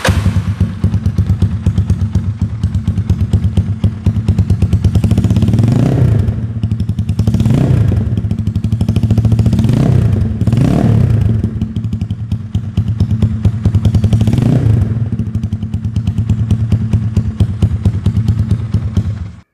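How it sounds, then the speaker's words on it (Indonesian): A custom Yamaha Scorpio 225 brat tracker motorcycle idles loudly and steadily through its exhaust, with several throttle blips rising and falling, and no talking. "mending kita langsung cek aja bagaimana suara knalpotnya cuy."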